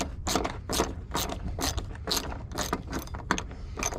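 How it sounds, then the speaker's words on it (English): A ratchet wrench loosens the battery hold-down set bolt on a 2014 Ford F150 FX4 with a 5.0 engine, giving a steady series of close, crisp clicking strokes in a regular rhythm, with no talk. "Loosen this set bolt."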